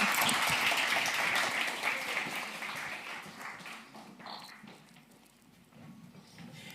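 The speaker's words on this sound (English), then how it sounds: "I'd like to have a big round of applause for all our panellists" An audience at a Women and Girls in Science event applauds the panellists, a dense burst of clapping that starts loud and slowly thins and fades, with no talking.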